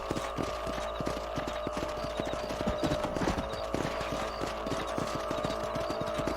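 Horses trotting in the Red Dead Redemption video game, a rapid steady clip-clop of hooves over a constant background hum, close and continuous throughout.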